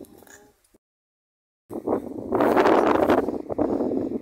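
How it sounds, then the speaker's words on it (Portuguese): Strong wind buffeting a microphone outdoors on a rural farm in rainy weather, a brief gust, a short dropout to silence, then loud sustained low rumbling and roaring blasts that swell and hold close to the mic. "Tem muito vento."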